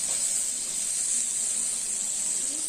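Chopped tomato sizzles steadily in a hot pan, a constant bright frying hiss at moderate loudness with no talk over it.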